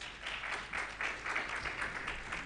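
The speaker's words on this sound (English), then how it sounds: "A round of applause." Audience applause at a technology summit launch in Africa, a steady wash of many hands clapping, moderately loud and continuous for the whole stretch, with no talk over it.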